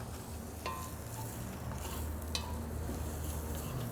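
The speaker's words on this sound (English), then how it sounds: "we're gonna return a little bit back to the pan to cook our onions and peppers" Onions and jalapeños sizzle in a pan with rendered chorizo and brisket fat over a campfire, a steady hissing fry with a couple of brief clinks of a utensil against the pan, no voices.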